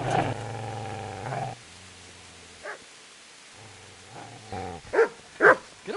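Growling and snarling from an attacking dog in the Kingdom Come video game, low sustained growls broken by sharper barks and yelps that swell louder near the end, with no talk.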